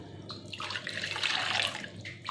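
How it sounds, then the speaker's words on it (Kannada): Water pours from a cup into a pot holding sugar, a steady splashing stream running about two seconds with no talk. "4 ಕಪ್ನಷ್ಟು ನೀರು ಹಾಕ್ಕೊಳ್ಳೋಣ"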